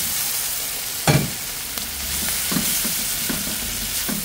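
Boiled beef chunks dropped into a hot sizzling pan for beef caldereta, a loud thump at the start, then a steady sizzle broken by a few scraping stirs.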